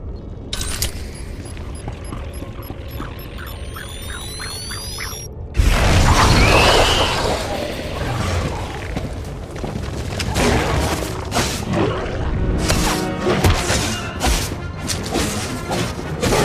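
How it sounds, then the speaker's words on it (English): Set charges detonate in Star Wars: The Old Republic, a sudden loud blast hitting after a few seconds of mechanical whirring and clicking, followed by a long roiling rumble with scattered crashes and debris. "I heard the explosions when you set off the charges."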